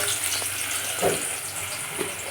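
Chopped onions fry in a pan for a fish-head rice dish, a brief, close crackling sizzle with a few small stirring bumps.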